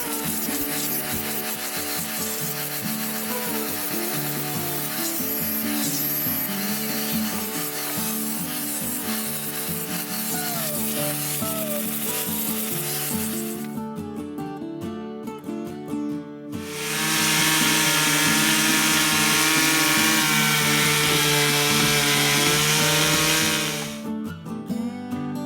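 A 4.5-inch angle grinder fitted with 50 or 80 grit sandpaper is sanding a log to scribe lines on a remote Alaskan log cabin, producing a loud, steady abrasive whir with a brief lull midway before resuming.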